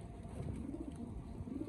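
Old line pigeons kept for sale in Bangalore coo softly and repeatedly, faint murmuring calls over a low, steady background hum.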